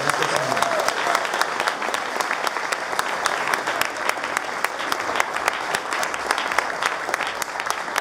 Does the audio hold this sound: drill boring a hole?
no